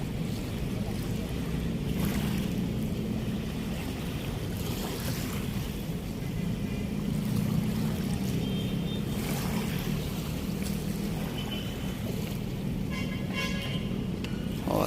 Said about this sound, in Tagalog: Malakas na yung hampas ng amihan, mga babayan.